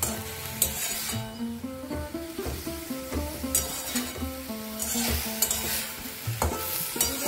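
Moringa flowers sizzle and fry in a pan with salt, dried chilli and turmeric while a utensil stirs and scrapes in irregular bursts, close up and with no voices.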